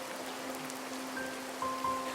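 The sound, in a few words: rain falling in a cartoon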